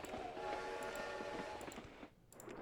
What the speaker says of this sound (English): I love how the train is still making like the rail noises and the noises of yeah, and the toot noises.